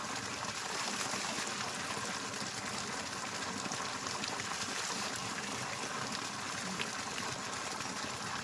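Water rushes steadily without pause at Sri Hemachala Lakshmi Narasimha Swamy Temple, a broad continuous gushing hiss, faint and even throughout.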